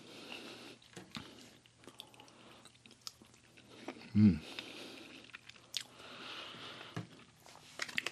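Chewing a Japanese MRE sausage with a crunchy shell, close-up crunching bites and soft moist mastication sounds, with one louder bite midway amid quiet pauses.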